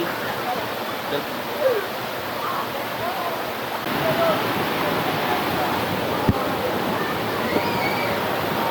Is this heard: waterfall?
yes